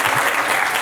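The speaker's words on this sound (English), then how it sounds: "Let's have a bit more applause for them" Brief burst of dense audience applause at a medical conference in Abu Dhabi, loud, steady clapping from a crowd with no voices.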